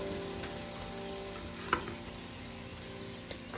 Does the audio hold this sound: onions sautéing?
yes